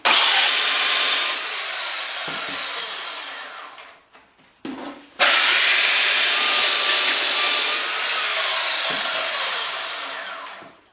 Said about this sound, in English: I'm going to belt sand it now. I'm using the belt sander to generate heat